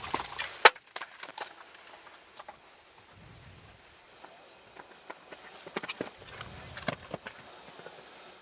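Horse hooves thud and clatter across a show jumping arena at a five-star competition, with sharp, uneven footfalls and knocks over low background noise and faint voices.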